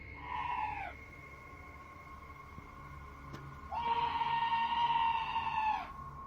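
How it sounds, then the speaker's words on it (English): An eerie, drawn-out scream rings outside a trailer door at night, two long wavering cries separated by a quiet pause, fairly distant and alone in the background hiss. "This scream sounds like chills made audible"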